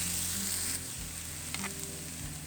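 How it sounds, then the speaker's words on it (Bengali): Chopped onion and chili frying lightly in a pan, a steady faint sizzle with a soft low hum underneath, no talking. "এরপর কুচি করে কাটা পেঁয়াজ মরিচ দিয়ে দিতে হবে। এগুলো একদম লাল লাল করা যাবে না, হালকা শুধু ভেজে নিতে হবে।"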